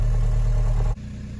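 A Talbot camper van's swapped PD130 engine idles close by with a steady rumbling drone that drops to a quieter idle near the end.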